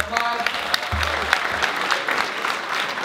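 Audience applause for a celebrity photographer at a fitness event, dense and steady throughout with voices and cheering mixed in, close and fairly loud.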